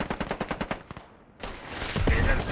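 Rapid machine gun bursts in the military shooter game Squad, a close rhythmic string of about ten sharp shots, then a pause and a louder rumble of distant firing and battle noise.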